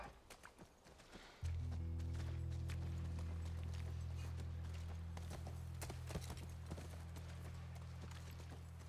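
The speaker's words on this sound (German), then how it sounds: "Unser Pferd." Horse hooves clip-clopping in the video game The Last of Us, a steady low rhythmic patter that starts abruptly and continues over a sustained low hum, fairly quiet throughout.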